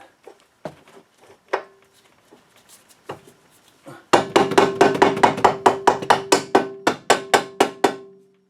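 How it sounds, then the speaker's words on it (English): A rubber mallet taps parts into an Audi upper control arm: a handful of scattered single knocks, then a steady run of about fifteen evenly spaced, loud, close blows on the metal assembly. "I'm going to use the rubber mallet"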